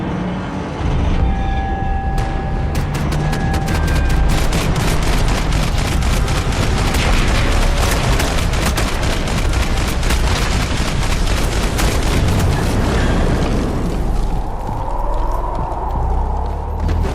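Sustained gunfire in the video game Max Payne 3, loud rapid bursts and shots packed densely over a long stretch before tapering off near the end.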